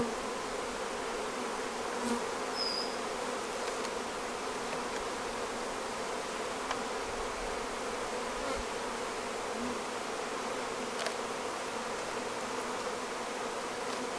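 Honey bees buzzing steadily around a Flow Hive during a queen installation, a dense continuous hum close by, with occasional individual bees droning past, and no voices.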